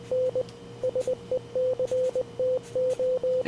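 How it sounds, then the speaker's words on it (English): Morse code beeps from a message playback system, a steady single tone keyed in short dots and longer dashes with brief gaps, close and clean with no talk over it. "I just have a system set up that plays it in Morse code so I can practice."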